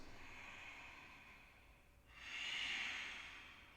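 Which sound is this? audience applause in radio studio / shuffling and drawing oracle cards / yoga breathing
yoga breathing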